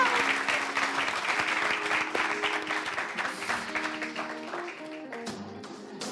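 A television studio audience applauds the group Twins Boy, with dense, steady clapping that slowly thins out as a few voices come in near the end.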